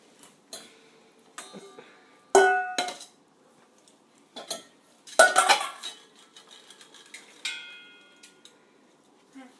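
A child stirring with a spoon in a bowl: scattered metallic clinks and scrapes, a few louder clattering knocks, intermittent and close, with brief quiet gaps and faint voices in between.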